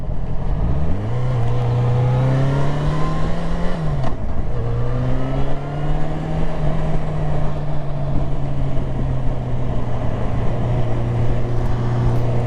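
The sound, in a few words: car accelerating up to 50 during driving test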